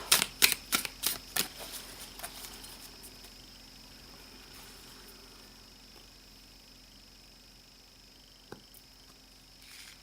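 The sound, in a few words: shuffling tarot cards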